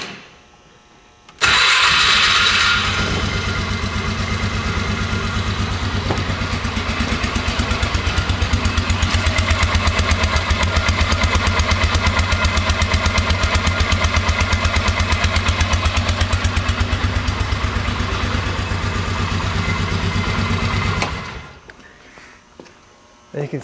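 Polaris Ranger 500 utility vehicle engine cranking and catching, then idling steadily with an even buzzing rumble for about twenty seconds before shutting off, close by, with a voice heard around it.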